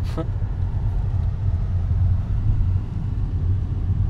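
A car rolls slowly around the grounds of an abandoned asylum in Scotland, a steady low rumble of engine and tires from inside the cabin, with a brief sharp knock at the start.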